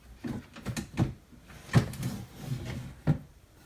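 IKEA KALLAX drawer wheels being set onto their rails during assembly, a few soft knocks and rolling scrapes spaced across the moment, fairly quiet and close in a still room.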